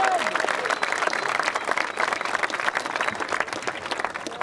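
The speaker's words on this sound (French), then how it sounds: "je crois qu'on peut applaudir l'équipe d'Allemagne" Applause for the German team at a 2004 hill climbing team event, a dense steady wash of many hands clapping that carries on without a break, with crowd noise mixed in.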